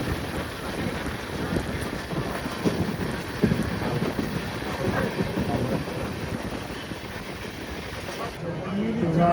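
A crowded Gaya Howrah Express passenger train running on rails, heard from on board as a continuous rattling rumble mixed with gusty wind buffeting the microphone, shifting slightly near the end.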